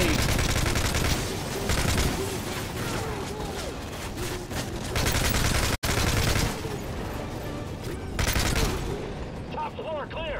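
Heavy gunfire in a Call of Duty MW3 campaign battle: dense, continuous volleys of automatic weapons and scattered blasts fill the whole stretch, loud and close, with shouted voices mixed in and one brief cut of silence midway.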